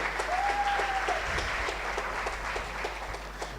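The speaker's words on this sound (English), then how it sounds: "Let's give Dr. Campbell a special round of applause." An audience at a 2017 university faculty orientation at UWI Mona applauds a new lecturer, steady dense clapping filling the room for the whole stretch with a faint whistle-like tone early on.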